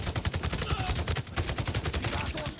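Rapid automatic gunfire from a mobile third-person shooter game in the style of The Division rattles in dense, continuous bursts, loud and close throughout with barely any pause.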